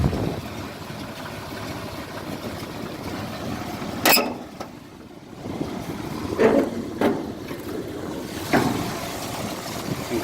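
A 1966 International Harvester 1300A one-ton pickup truck engine idles with a steady low rumble, fairly quiet and even despite a bad muffler, with a few brief louder bumps.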